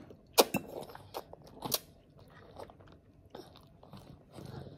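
A baby chewing and biting on meat sauce pasta, with soft wet mouth sounds and a few sharper crunchy clicks in the first two seconds, then quieter intermittent chewing close to the mic.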